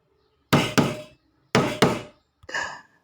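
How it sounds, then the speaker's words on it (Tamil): Knocking on a wooden door in a house, three sharp double raps close to the listener, each pair of knocks followed by a brief pause, with no talking over them. "மாமா கதவையும் தட்டுது"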